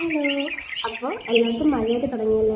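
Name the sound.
birds chirping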